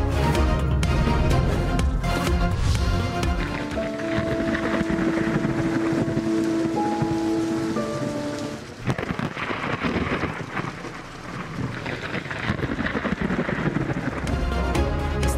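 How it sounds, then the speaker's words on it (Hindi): Rain with cold, gusting wind over Islamabad, a loud continuous wash of noise with rumbling buffeting on the microphone and a brief dip partway through before the downpour and gusts return. "इस्लामाबाद में काली घटाएं और ठंडी हवाएं। बादल एक बार फिर बरस पड़े।"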